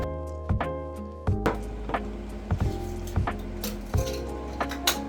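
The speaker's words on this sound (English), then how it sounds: "I, of course, am going to start with just chopping up some onions here" A knife strikes a cutting board in repeated, fairly regular chops while chopping onions, close and crisp, with no talking.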